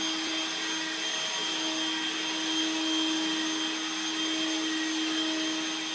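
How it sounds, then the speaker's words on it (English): A household vacuum cleaner runs steadily indoors, its motor holding a constant whining hum with a high tonal whine and no pauses, fairly close and alone without talk. "Can you vacuum over there, Koa?"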